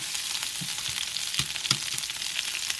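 Fillets of red snapper and red sea bass fry in a little oil in a pan, giving a bright, constant sizzle with a few soft knocks and stirring sounds, close and with no talking.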